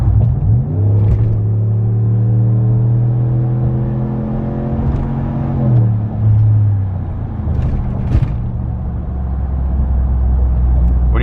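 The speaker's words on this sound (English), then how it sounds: "let you guys hear what the exhaust sounds like from inside the cab" Loud, deep 2019 RAM 1500 pickup with a straight pipe exhaust heard from inside the cab, its exhaust drone rising and falling through shifts as the rumble settles into a steady roll.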